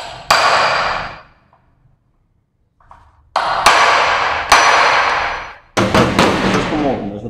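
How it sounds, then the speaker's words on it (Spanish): Hammer striking a steel shaft held against a motorcycle bolt, an XR150 during a fork seal change, to loosen the thread: a few loud metallic blows in separate bursts with ringing decay, close and dominant, the last ones quick and clustered. "démosle un par de golpecitos aquí con un fierrito, con un eje y un martillo"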